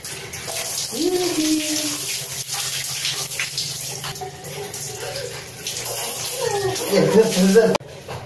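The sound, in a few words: water running during a baby's bath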